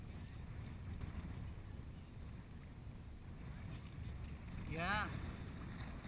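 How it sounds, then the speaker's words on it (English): Wind blowing outdoors by the water on an island shore, a steady low rumble of buffeting across the whole stretch, with a brief boat-like swell near the end and a person speaking a word over it. "too bad about the wind"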